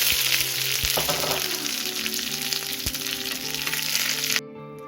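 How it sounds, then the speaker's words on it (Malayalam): Mustard seeds, curry leaves and green chilies crackle and sizzle in hot oil for puli inji, a dense close frying hiss with scattered pops, cutting off abruptly near the end. "ഇതിലേക്ക് കുറച്ച് കറിവേപ്പിലയും ഒരു 2 പച്ചമുളകും ഇട്ട് കൊടുക്കാം."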